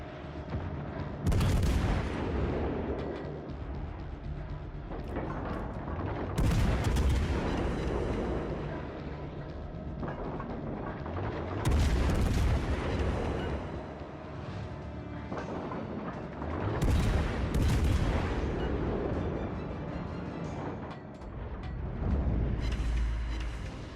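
Heavy naval guns firing on an enemy warship in a naval combat video game, with loud booming salvos roughly every five seconds over a continuous rumbling battle din.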